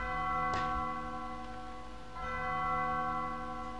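A single bell rings out in Undertale's last corridor: a clear struck tone with a long, humming, slowly decaying tail, followed by a second softer strike, alone against quiet.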